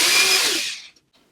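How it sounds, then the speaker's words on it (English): A power drill whirs at high speed while pre-drilling a wooden board for a homemade movie rack, a loud steady whine that fades and stops just before a second, then near silence. "I'll then pre-drill."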